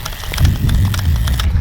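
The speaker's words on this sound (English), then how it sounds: "That's the sound of an empty roll." An empty 35mm film roll rattles in a steady, busy clatter of light knocking bursts, close and fairly loud, inside an abandoned train car.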